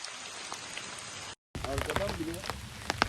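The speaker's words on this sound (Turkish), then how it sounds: "Hala yağmur ya hiç durmadı." Steady rain patters on a surface, then after a brief gap returns louder with close drips and splashes, while a voice speaks over it.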